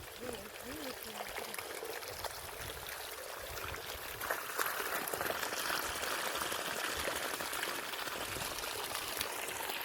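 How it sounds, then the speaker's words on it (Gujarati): Irrigation water flows steadily into a cotton field outdoors, a continuous broadband rush and trickle that holds even throughout, with faint voices in the background. "પાણી જઈ રહ્યું છે હવે કપાસની અંદર"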